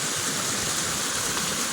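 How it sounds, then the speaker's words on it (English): Rainwater runoff after a couple days of rain pours down into a creek beside a culvert under a West Virginia homestead driveway, a steady, full rushing wash of water that holds evenly throughout. "You see how much runoff there is when we get a couple days of rain. Now it's running down there into the creek,"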